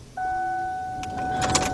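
A 2002 Mercury Sable's ignition key is switched on with a steady electronic tone starting after a moment inside the car, followed near the end by light key and switch clicks; no talking.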